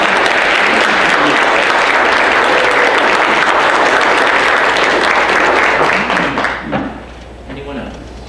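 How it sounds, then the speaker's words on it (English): A church congregation applauds loudly and steadily for several seconds, the dense clapping fading out near the end into quieter room sound. "we owe her a big round of applause"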